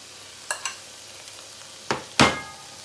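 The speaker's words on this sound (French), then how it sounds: "il faut toujours faire la viande comme ça et frire avant de rajouter dans la sauce." Meat fried in a pan before going into a peanut sauce for fonio mafé gives a few short, sharp sizzles and scraping stirs, the last burst loudest, over a quiet background.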